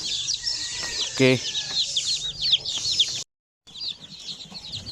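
A brood of newly hatched chicks peeping in a dense, high-pitched chorus of rapid cheeps close by, with a hen clucking and a brief spoken word partway through before a short gap of silence.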